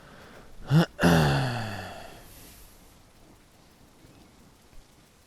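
Rain and a thunderstorm in the dinosaur survival game The Isle: a sharp, loud thunder crack that rolls off over a couple of seconds, followed by steady rain hiss fading into quieter patter, with no voices.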